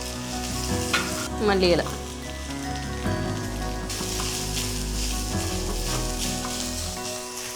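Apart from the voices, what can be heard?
green chillies and curry leaves sautéing in a pan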